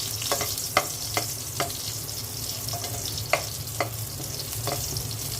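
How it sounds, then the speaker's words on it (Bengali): Dried red chillies fry in hot oil in a pan, a soft continuous sizzle punctuated by several sharp clicks and taps of stirring, close and alone without talk. "কয়েকটা শুকনো মরিচ ভেজে নিচ্ছি"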